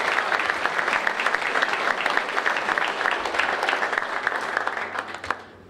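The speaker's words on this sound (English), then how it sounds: "How about one more round of applause for those current Hall of Famers?" Steady, full applause rolls through a college athletic hall of fame ceremony crowd, many hands clapping at once for several seconds before thinning and fading out at the close.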